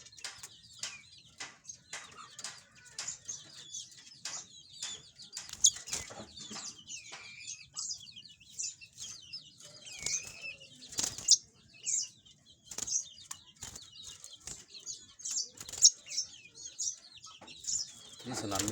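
A domestic canary in a cage chirps and trills in bright bursts while its wings flap and flutter in short, sharp rustles, close and clear against a quiet background.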